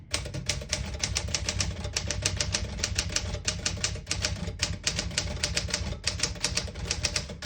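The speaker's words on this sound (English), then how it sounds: "Beautiful typing machine." Rapid, steady keystrokes clatter from a vintage Smith Corona portable typewriter in excellent working condition, typing in red ribbon mode, each sharp strike close and distinct over a low mechanical hum, with no voices.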